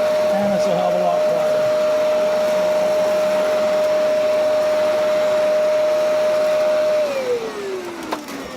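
A Kenmore vacuum cleaner with its powerhead running, a loud, steady motor whine and airy roar that holds for several seconds, then drops in pitch as the motor winds down.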